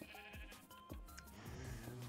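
Video game sheep bleating on a compact sheep farm, several short bleats overlapping in quick succession, faint and close together over a quiet background.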